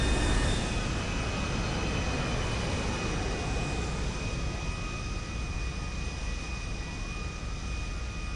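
An airplane's engine drones steadily on a drag racing track, a continuous loud roar with a high whining tone holding throughout, no voices heard.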